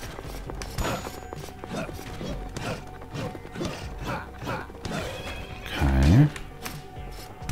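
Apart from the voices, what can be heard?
horse neighing in video game Rogue Legacy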